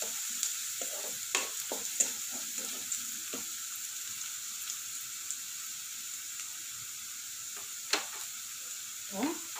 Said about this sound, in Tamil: கொஞ்சம் செவக்கட்டும் வெங்காயம்.